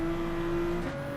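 Race cars drive around Road Atlanta in Gran Turismo 7, including a slammed Acura NSX race build, giving a steady engine drone with a constant tonal whine that shifts slightly near the end, no talking.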